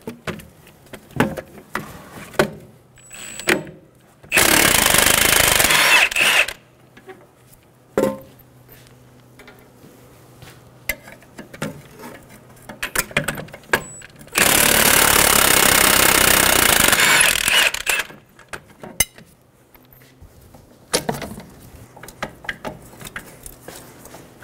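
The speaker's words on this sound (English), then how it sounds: "we're going to remove the two bolts." Two long, loud bursts of a power tool, likely an impact wrench with a 22 mm socket, loosening knuckle bolts on a 2007-2011 Toyota Camry front hub, with quieter clinks and shop handling noises between them.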